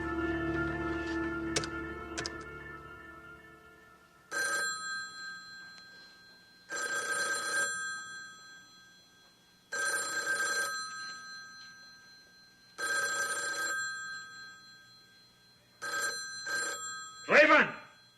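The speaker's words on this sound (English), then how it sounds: "For God's sake, do something about that phone." An old telephone bell rings in repeated bursts in an indoor drama scene, five or six evenly spaced trills of about a second and a half each with short silences between, loud and close, after brief sounds at the start.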